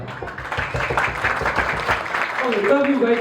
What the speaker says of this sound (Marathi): टाळ्या म्हणजे ह्या असतात